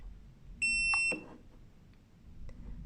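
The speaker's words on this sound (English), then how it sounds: "exit by holding the set button until you hear 2 beeps" Mata T2 tire pressure monitor giving a single loud, high, steady electronic beep of about half a second as its set button is held, then a brief soft click and quiet background.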